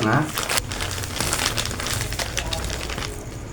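Glutinous rice flour tipped out of a plastic packet for Sundanese dodol: continuous crinkling of the wrapper with soft rustling as the flour slides out, close and fairly loud, while someone talks.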